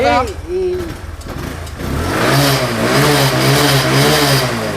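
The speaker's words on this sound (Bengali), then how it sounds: "গাড়ি একেবারে ফ্রেশ ইঞ্জিনের সাউন্ড টাউন্ড সুপার ডুপার ফ্রেশ" A used motorcycle with a black body and a fresh-sounding engine revs up loudly and close by, rising into a sustained buzzing drone after a brief burst of talk at the start.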